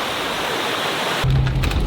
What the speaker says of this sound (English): this small mountain stream goes on off to the adjacent side of the road